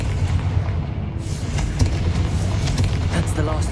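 The Confringo fire spell blasts spider egg sacks in Hogwarts Legacy: a steady, roaring blast with sharp crackling bursts scattered through it and a constant low rumble underneath.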